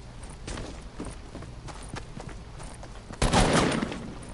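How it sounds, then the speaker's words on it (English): Gunfire in a video game: scattered sharp shots and footstep-like thuds at moderate distance, building to a louder burst of fire near the end, with no talk. "He doesn't know what he's shooting at."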